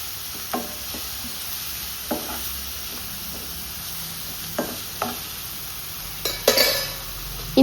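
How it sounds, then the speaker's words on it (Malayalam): Chopped onions for prawn biryani sauté in a pan over a steady low sizzle, broken by a few sparse stirring scrapes and a small cluster of clinks near the end. "ഇനി ഇത് നല്ല രീതിയിലൊന്ന് വഴറ്റിയെടുക്കണേ."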